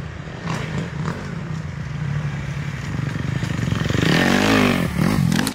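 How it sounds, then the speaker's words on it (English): A Kawasaki KX250X off-road dirt bike rips around an off-road course at Washougal, its engine buzzing and revving up hard with rising pitch, then shifting and revving again, close and loud. "Today we're riding the KX250X. This is the off-road bike."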